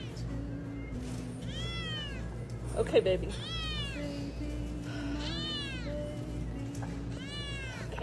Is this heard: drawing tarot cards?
no